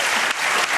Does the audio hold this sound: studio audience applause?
yes